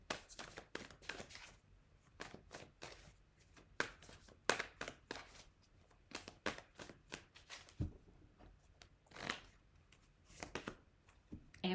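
Tarot cards shuffled and drawn from a deck, a long run of quick, crisp riffling snaps and taps in irregular bursts, close and fairly quiet.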